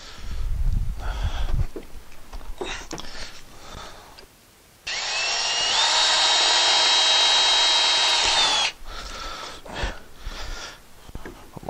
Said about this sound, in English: I'm gonna drill a hole through here and put my screw in